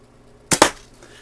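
A Daisy 299 BB gun fires at targets, two sharp, close snaps in quick succession against quiet outdoor background.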